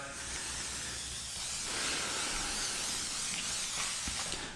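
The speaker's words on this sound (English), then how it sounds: "I'm gonna take some slip solution, spray it down on top of the film" A spray bottle hisses slip solution onto clear bra film on a Honda CR-V hood in a few quick bursts, broad and airy, with short pauses between sprays and no talking.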